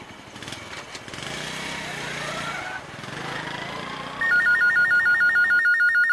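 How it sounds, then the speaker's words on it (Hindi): A telephone in an office scene of a classic PTV drama serial starts ringing near the end with a steady electronic warbling trill, following a stretch of room noise and background voices. "भाई फोन उठाओ।"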